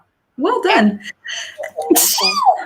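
A sharp, loud sneeze bursts out close by, surrounded by brief speech before and after it.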